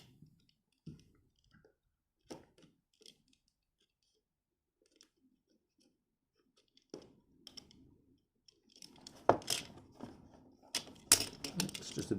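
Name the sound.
opening Star Wars Black Series figure packaging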